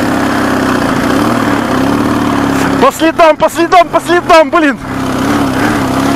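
A motorcycle engine idles steadily, then revs in a quick series of rising and falling bursts before settling back to a rougher idle, heard outdoors on a trip to collect birch sap; someone speaks briefly.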